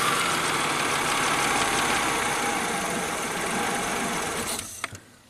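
Engine of a Probe car with a bad starter, cranked and forced to run with the throttle closed, makes a loud, steady mechanical whirring that cuts off abruptly near the end with a couple of clunks.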